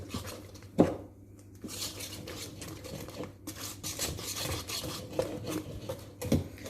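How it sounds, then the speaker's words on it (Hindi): Cake rusk batter is mixed by hand in a bowl without an electric mixer. Soft, continuous scraping and rubbing strokes run throughout, with a few sharper knocks against the bowl, all fairly faint. "इसको मिक्स अच्छी तरह आपने करना कि कोई लंप वगैरह ना रह जाएं"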